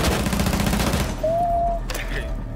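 Gunfire in a video game shootout erupts in a dense, loud fusillade of rapid shots for about a second, then thins into a lower rumble with a thin tone and a final sharp report.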